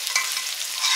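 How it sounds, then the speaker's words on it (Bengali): Paneer cubes sizzle and fry in a hot pan with oil, making a bright continuous crackle broken by brief stirring scrapes, close and alone without any talk. "পনির ভাজা হয়ে গেছে"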